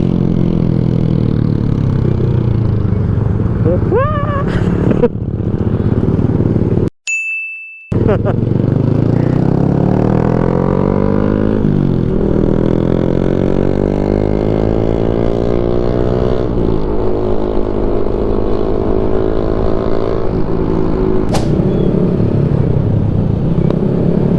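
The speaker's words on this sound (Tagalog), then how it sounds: "Ang ganda ng downshift ng Sniper. Yan, naka-built-in exhaust." Yamaha Sniper motorcycle with a built-in exhaust, engine loud and close as the revs fall and climb through downshifts in a rising and falling drone, with a brief cutout near the middle.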